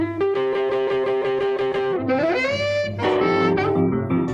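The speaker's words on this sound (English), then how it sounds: "playing through an old amp like this one, turning it up as loud as it could go, which causes it to break up" An old tube amp cranked to full volume breaks up under an electric guitar, giving a gritty, fuzzy tone as it plays sustained notes, then a sliding bend, then a strummed phrase, loud and up close with no talking.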